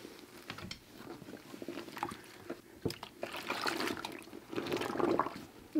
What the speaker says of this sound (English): We're just going to hand wash these.